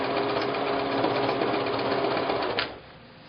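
A sewing machine runs in one continuous, fast, buzzing burst as it stitches an appliqué leaf, close and loud, then stops abruptly just before the end.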